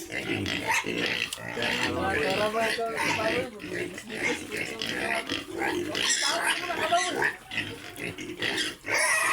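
Pigs grunt and oink close by while being fed feed mixed with vitamins, a busy overlapping stream of snorts and squeals under a person talking throughout.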